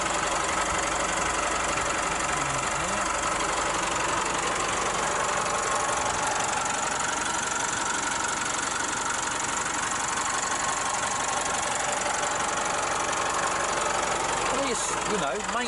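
An Isuzu D-Max 4x4 double cab's 2.5 litre direct injection twin turbo diesel idles with a steady, loud, close rumble and a faint knocking texture, and someone talks over it.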